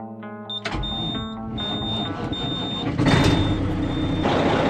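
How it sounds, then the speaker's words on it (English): A truck engine starts and keeps idling up close, a steady diesel rumble that builds slightly louder partway through, while a high electronic beep repeats at regular intervals over it. "as you can tell I fired the truck up"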